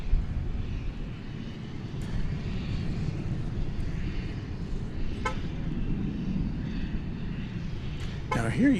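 An MD-11 jet at DFW airport gives off a continuous low engine rumble and roar, fairly loud and steady, with a few short clicks and a rising whine near the end.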